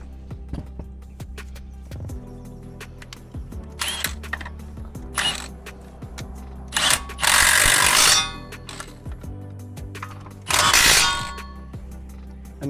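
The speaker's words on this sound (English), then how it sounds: "Go ahead and tighten our 21mm bolts." Wrench work tightening 21mm front brake caliper bolts on a C8 Corvette during a brake pad change, with sparse metallic clicks and a few loud bursts of ratcheting over a low garage hum.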